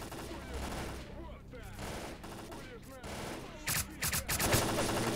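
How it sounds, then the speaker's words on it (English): Bursts of automatic gunfire strike enemies in S.T.A.L.K.E.R.: Clear Sky, a loud rattling fusillade of rapid shots over game ambience, with no speech. "I just love the effect of bullets."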